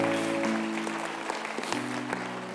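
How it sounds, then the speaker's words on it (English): Congregation clapping after a poem reading at a church service, a steady wash of applause with a sustained organ or keyboard tone underneath. "Let's applaud that poem."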